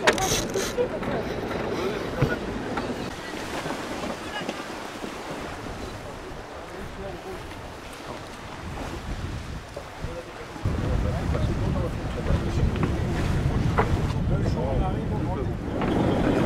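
Wind rushes steadily over the sea as a sailboat sails, with waves sloshing and the hull rocking; the noise swells louder toward the end, with voices talking in French.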